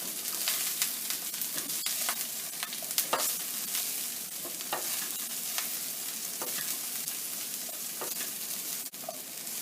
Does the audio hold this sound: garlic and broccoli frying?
yes